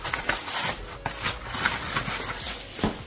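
Wax melt packages being unwrapped, with busy crinkling and rustling of packaging in close, uneven bursts throughout and no speech.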